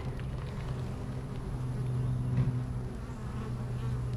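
A big honey bee swarm hums and buzzes close by, a dense, steady, moderately quiet drone of many wings with slight swells in loudness.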